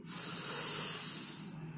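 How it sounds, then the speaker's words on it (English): A slow, deep inhale through the nose during yoga breathing practice, a steady airy hiss lasting over a second, close to the mic and fairly loud, tapering off at the end. "Inhale slowly."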